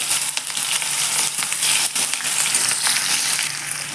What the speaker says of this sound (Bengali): ওই একই তেলের মধ্যে কাঁঠালগুলো দিয়ে ভেজে নিতে হবে